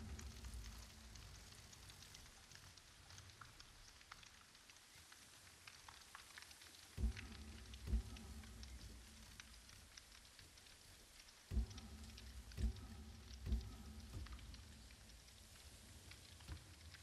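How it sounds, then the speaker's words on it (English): Heavy rain hisses steadily in the video game Ghost of Tsushima, a faint continuous wash broken by several soft thumping knocks in two clusters. "The weather right now is the heavy rain."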